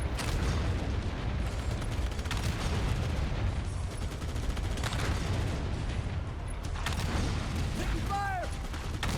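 Gunfire in the Halo Campaign Evolved assault on the Control Room, a dense, continuous battle din of shots and impacts with a brief whooshing sweep near the end; voices talk over parts of it.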